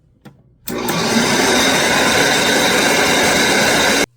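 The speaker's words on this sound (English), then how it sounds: "We're going to fire this through the grinder." A grinder churns salami meat for Genoa salami. Its loud, steady whirring roar starts abruptly, runs for about three seconds without letting up and then cuts off.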